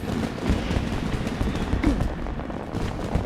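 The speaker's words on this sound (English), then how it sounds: "Oh god, I forget how loud the fireworks are." Fireworks going off in the Final Fantasy XIV video game, a loud, dense run of rapid crackling bangs and pops that keeps going without a pause.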